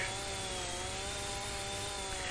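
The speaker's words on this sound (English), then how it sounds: "The chainsaw seems to do a little better job of delimbing." Chainsaw cutting and delimbing trees in Farming Simulator 25, a steady continuous engine drone with tonal harmonics holding at an even level throughout, close and loud with no talk.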